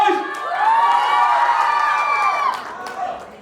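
Guests at an engagement ceremony cheer and shout together in a loud, sustained whoop that swells, holds for a couple of seconds and then fades, with a brief burst at the end.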